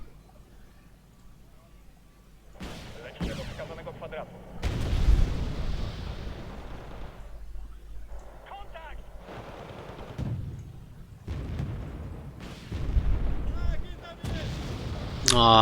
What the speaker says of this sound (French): La frappe d'artillerie est effectuée dans cette zone